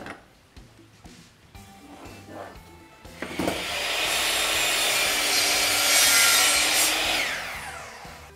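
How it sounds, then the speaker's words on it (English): A drop saw bites into timber for a pot holder, first with some handling knocks, then a loud, sustained, close whining cut lasting several seconds before winding down. "I'm going to be cutting this on the drop saw"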